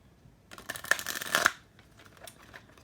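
A deck of tarot cards gets riffled and shuffled close by in a quick papery burst lasting about a second, then fades into a few lighter shuffles and soft card taps.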